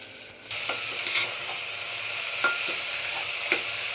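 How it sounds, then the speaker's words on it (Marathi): Masoor lentils tumbling into a hot pan with turmeric and coriander-cumin powder, bursting into steady sizzling from about half a second in, with a few scraping stir strokes punctuating the hiss; no talk. "आता मसूर घालून घेते।"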